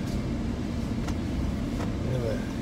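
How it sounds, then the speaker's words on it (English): A 2019 Honda Odyssey Elite minivan pulls away, its engine and road noise a steady low rumble from inside the cabin with no pauses. "we are taking off for a ride here on the 2019 Honda Odyssey in the Elite trim level"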